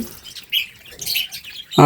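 Budgerigars at a bird farm give a few quick chirps and twitters, close by, ending on a sharper burst of calls.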